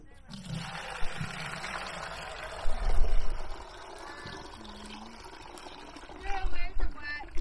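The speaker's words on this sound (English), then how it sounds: "we're going to pour it into this bucket." Freshly pressed apple cider poured into a bucket, a rushing liquid stream that swells and fades in bursts, with someone talking over parts of it.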